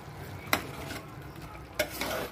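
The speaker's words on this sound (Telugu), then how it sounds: "ఈ మొత్తం మళ్ళీ ఇంకొక 10 మినిట్స్ హై ఫ్లేమ్ మీద మగ్గేసేయాలి" Chicken and raw mango curry cooking over a high flame, a steady close sizzle with two sharp stirring scrapes of the spoon against the pan, no voices.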